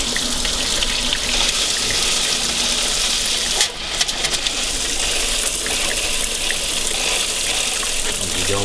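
Water gushes and bubbles steadily from an erupting water well in Marcellus Shale fracking country, a loud continuous rushing churn with no talking.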